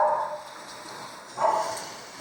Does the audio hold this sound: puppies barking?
yes